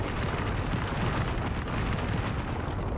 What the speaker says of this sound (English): Throw my grenade on delivery. Attention. Frag out. Look out, grenade!